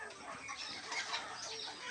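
Peruvidai chickens of about three kilograms each, kept for breeding on a farm, cluck in a soft, scattered chorus for a couple of seconds, faint and somewhat distant, with no voice over them.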